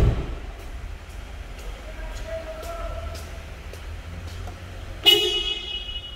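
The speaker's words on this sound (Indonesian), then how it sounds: "Untuk bunyi klakson itu yang baru, ini yang baru ya." The new horn of a 2021 Renault Triber RXZ AMT gives one short, bright honk near the end, after a stretch of faint low background noise and small clicks.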